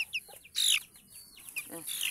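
A young chick clucks and peeps in short bursts, close and fairly faint, with chick-like chirps scattered throughout.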